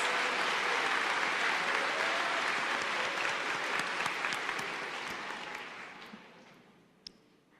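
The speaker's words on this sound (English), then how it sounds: "I would like to acknowledge them right now with a round of applause" Sustained, dense applause from a large audience at a May 2023 university commencement ceremony, loud and steady before gradually thinning and fading out near the end.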